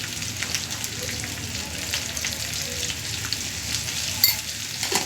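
Food frying in a pan with turmeric, salt, tomato and potato, stirred now and then, giving a steady close sizzle with soft scraping and a brief louder clink near the end.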